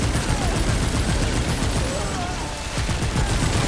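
Gunfire in the video game Remnant 2, loud and sustained with rapid shots layered into a dense, continuous barrage throughout.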